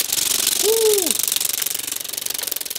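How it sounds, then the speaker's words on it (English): A wood lathe spins a cast resin Pez bottle stopper while a carbide tool cuts it, giving a steady close rattling machine drone with a brief rising whine near the start. "I'm gonna use my carbide tool here just to..."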